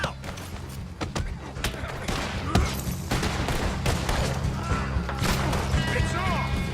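Gunfire rattles through a camp shootout in the video game Red Dead Redemption 2, with dense volleys of shots, crashes and thuds over a constant loud game soundscape, while voices shout over the fighting.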